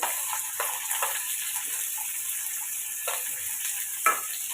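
Tomato sautéing in a pan of tempered urad dal for bottle gourd chutney: a steady soft sizzle with a few scraping stirs, at moderate level and alone.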